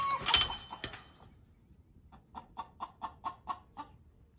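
A Rhode Island Red hen clucks in a steady run of about eight evenly spaced, moderately close clucks, following a brief burst of clattering at the start.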